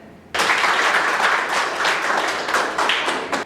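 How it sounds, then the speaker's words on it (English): An audience applauds at a staged competition event, a sudden burst of dense clapping that starts after a brief quiet and stays loud and steady throughout, with no talking. "Please give a big round of applause for them."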